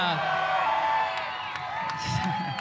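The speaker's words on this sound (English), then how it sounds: "How about this crowd on a Wednesday night?" A crowd of sprint car fans cheers and whoops on a Wednesday night at Tulare Thunderbowl Raceway, a lively but somewhat distant roar with scattered shouts under close talking.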